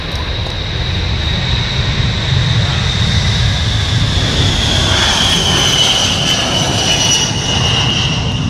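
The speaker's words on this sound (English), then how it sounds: "The US Air Force Boeing B-52H Stratofortress." A US Air Force Boeing B-52H Stratofortress jet bomber passes overhead at an air display, producing a loud, steady engine roar with a broad low rumble and a high whine that shifts in pitch as it flies by.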